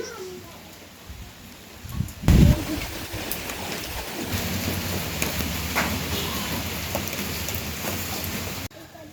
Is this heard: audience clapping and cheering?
no